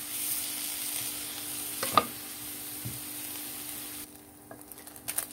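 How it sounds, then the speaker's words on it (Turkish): Meat sears and is stirred in a pan while cooking for an eggplant dish. A steady sizzle runs throughout, broken by a few sharp scraping clinks of the utensil, close and clear, with no talking. "şöyle sulanmadan iyice her tarafı mühürlensin diye karıştırıyoruz."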